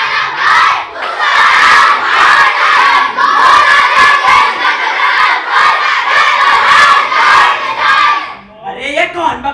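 A crowd of protesters in a stage play shouts loudly in rhythmic bursts of massed voices, like chanting or battle cries, sustained for about eight seconds before dropping away into a brief single voice.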